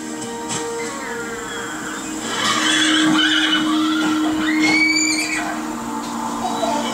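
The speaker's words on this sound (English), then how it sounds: "It is a baby horse." A horse whinnies in a high, wavering call outdoors, rising and falling over a steady low hum, with a second shorter neigh near the end.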